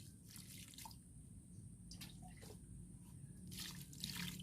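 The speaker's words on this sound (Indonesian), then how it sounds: "kita siram pakai air bersih." Clean water is poured onto a freshly planted air-layered cutting in its potting medium, giving a faint, soft trickle with scattered light drips, quiet and close, with no speech.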